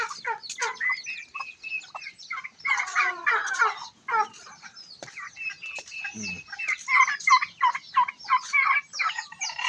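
Turkeys gobble repeatedly in bursts, mixed with clucking fowl nearby, a busy and fairly loud barnyard chorus with no talking.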